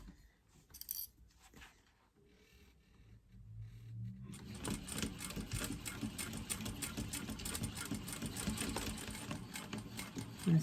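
A sewing machine runs steadily through a tote bag seam, starting after a few quiet clinks and handling sounds and continuing as a close, even, rapid whir to the end.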